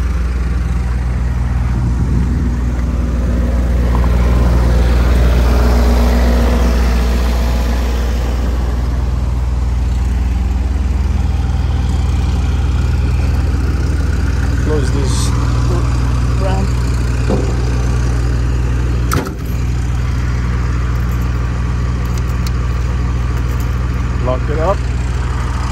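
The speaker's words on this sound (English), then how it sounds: "Very quiet motor. It's a 5-point Cummins engine." A 5.9-liter Cummins diesel engine in a 2003 Freightliner MT-55 mobile medic truck idles with a steady low rumble throughout, while a person talks over it nearby.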